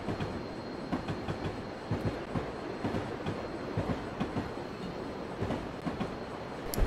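An SD40-2 diesel locomotive hauling an eastbound manifest freight train in Train Simulator 2021, rolling with continuous rumble and rhythmic clickety-clack of wheels over rail joints, steady and fairly close, no talking.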